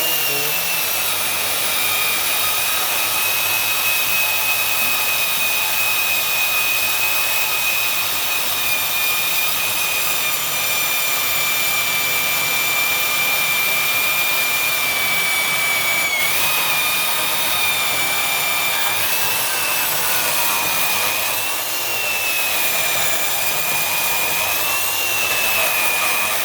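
A band saw cuts a notch into metal pipe, giving a continuous loud, high whining hum and blade hiss that holds steady for the whole stretch, with slight pitch dips as the cut loads up.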